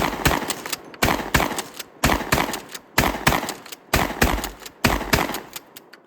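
Six loud, evenly spaced gunshots from KSG-12 and DP-12 bullpup pump shotguns, each sharp blast followed by a short echoing decay.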